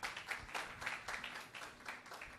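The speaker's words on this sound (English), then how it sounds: "Give him a big round of applause" Audience applause greets actor Sunil Shetty at an event in Chembur, a steady, moderately quiet wash of many hands clapping with small swells throughout.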